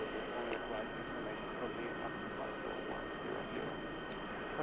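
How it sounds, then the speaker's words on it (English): A Boeing 737 engine idles in a flight simulator, a steady, even drone with a faint high whine that holds unchanged throughout. "Currently, of course, my engine's on idle"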